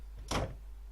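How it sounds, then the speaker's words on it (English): A door closes in the 999 game, a single soft, muffled thump-and-slide lasting a fraction of a second, fairly close and alone with no talk. "He closed the door again and turned to Ace and Clover"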